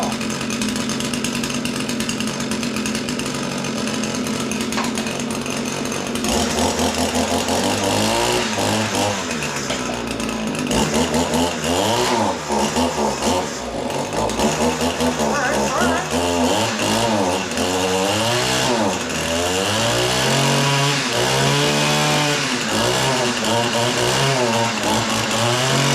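Small lawn equipment engine running and warming up after winter storage, a loud, close, buzzing two-stroke drone that revs up and down and wavers unevenly throughout.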